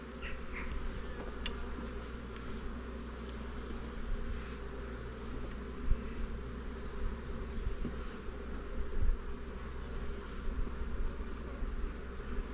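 Honeybees buzz in an open hive brood nest, a soft, steady hum that holds throughout with faint handling knocks and no voices.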